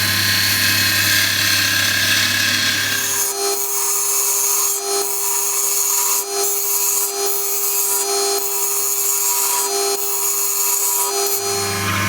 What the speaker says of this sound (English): It's important to keep the bevel rubbing as you're cutting.